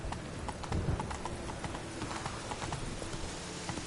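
Roach the horse galloping in The Witcher video game, a fast, rhythmic clip-clop of hooves close up over a soft ambient bed, with no speech.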